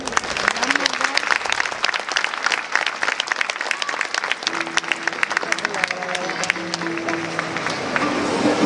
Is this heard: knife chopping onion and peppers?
no